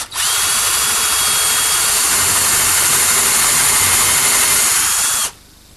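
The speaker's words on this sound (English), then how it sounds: "then I'm going to pre-drill for some screws" A power drill pre-drills screw holes at an angle into a wooden bracket clamped for a coffee table build, whining loudly and steadily close by for about five seconds before stopping abruptly.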